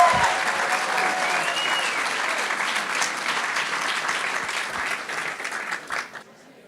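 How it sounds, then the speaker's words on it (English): Audience at a university graduate research presentation event applauds the presenters, a full, steady round of clapping that gradually thins and fades out near the end, with a voice briefly heard at the start. "please join me in applauding all of our presentations tonight."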